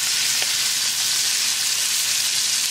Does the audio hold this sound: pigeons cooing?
no